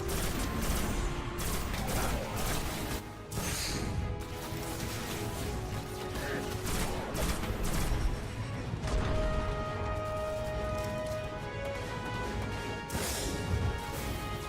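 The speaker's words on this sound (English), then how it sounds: "We've now got the captain, you see, putting a rocket in there, trying to damage as many of them as possible." Rocket blasts and rapid gunfire from a Destiny mission fill the whole stretch with dense, loud, overlapping explosions, crashes and bursts of shots, with no talk.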